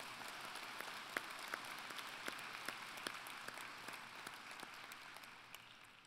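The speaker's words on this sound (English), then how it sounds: "And I think that deserves a huge round of applause." An audience at the NSCC Truro Campus college convocation applauds, a sustained wash of many hands clapping with sharp individual claps standing out, steady and then slowly tapering.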